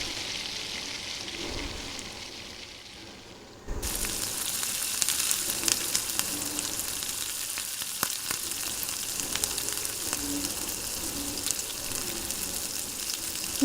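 Ginger garlic paste and mint leaves sautéing in a pan, a quieter sizzle that jumps to a steady, fuller hiss as the leaves go in and keeps frying evenly with occasional small crackles.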